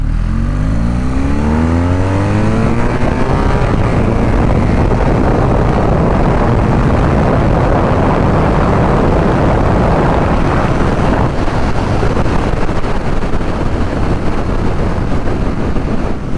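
A 2023 BMW R nineT motorcycle engine on a dyno pulls hard in second gear, rising from a low rumble to a sustained loud roar with heavy wind-like noise.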